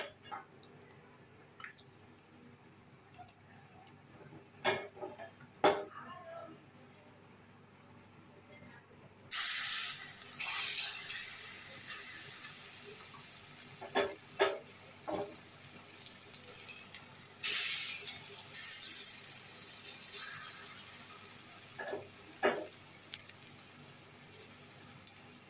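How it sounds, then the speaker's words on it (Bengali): Mung dal fritters (bora) frying in hot oil set off a steady, close sizzle that jumps louder partway through, with faint clicks and drips over the crackle. "তো চলো বড়াটা আমি আগে ভেজে নিই।"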